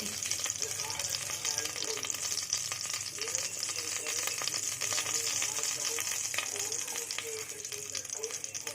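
Vegetable biryani sizzles and fries steadily in a pan while being stirred, a dense, continuous crackle with faint scraping throughout.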